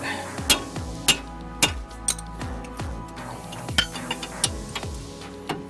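A hammer taps on car brake parts, the caliper bracket of a Vauxhall Corsa D front brake, in about a dozen sharp metallic knocks spaced roughly half a second apart, close and clear with no talk.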